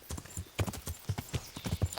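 Horse hooves clip-clopping steadily in Kingdom Come: Deliverance, a close, rhythmic series of hoof strikes on hard ground with a little faint ambient noise.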